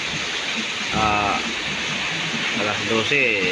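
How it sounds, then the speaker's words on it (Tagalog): Heavy rain falling around a service boat makes a constant dense hiss that fills the background while someone speaks over it. "Yan, lakas ang ulan"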